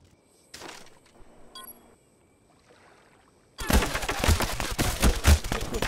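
Burst of rapid gunfire in the Call of Duty Black Ops video game, loud and dense for several seconds after quieter game sounds and faint effects.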